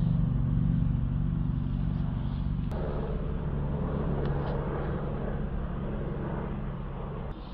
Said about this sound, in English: Okay, we've got the engine running